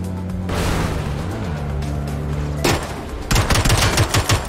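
Gunfire from a single-fire gun in the video game PUBG: a low engine drone gives way to a loud cracking shot, then a rapid string of sharp close reports.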